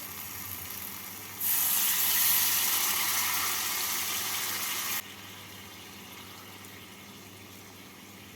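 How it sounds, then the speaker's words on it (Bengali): Hot water pours into a pan of paneer and potato curry, a steady broadband rush rising abruptly and holding for several seconds before dropping back to a softer simmering hiss. "এবার এর মধ্যে আমি দিয়ে দেবো দেড় কাপ গরম জল"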